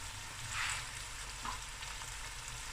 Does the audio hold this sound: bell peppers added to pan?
yes